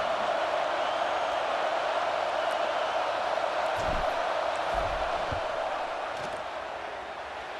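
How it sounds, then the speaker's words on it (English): A large football stadium crowd roars in a loud, sustained wash of noise during a field goal attempt, with a few thumps underneath as the volume eases slightly toward the end. "This crowd trying to do its part to get inside the kicker's head."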